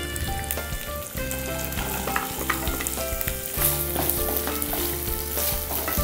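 Ginger and garlic, about a cup each, sauté in sesame oil for a lime and dates pickle, giving a dense, steady sizzle over six seconds with faint scraping stirs and a soft tonal hum underneath.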